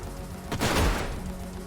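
Bombard cannons firing in the strategy game Age of Wonders: Planetfall, a single booming blast that swells and rolls off over about a second, heard alone.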